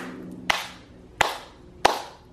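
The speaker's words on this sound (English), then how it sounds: "What you do is you keep clapping" Hands clapping sharply in a room to clear its energy, three distinct loud claps spaced evenly about two-thirds of a second apart, each with a short ringing decay.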